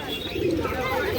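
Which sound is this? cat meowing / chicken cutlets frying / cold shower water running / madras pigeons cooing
madras pigeons cooing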